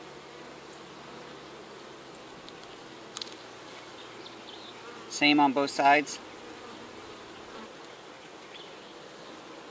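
Honey bees hum around an opened hive frame, a steady soft buzzing drone throughout, with a person briefly speaking in the middle.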